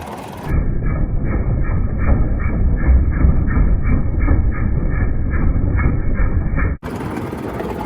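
Steady rhythmic chuffing and mechanical clatter of a small vintage Bowman live steam locomotive, over 90 years old and converted to 16mm scale, running close by, continuous and loud, with a brief dropout near the end.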